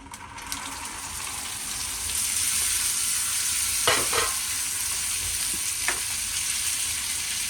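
Chickpeas drop into hot oil with reddened cumin, setting off a steady frying sizzle with a few sharp stirring scrapes in the middle; no one speaks.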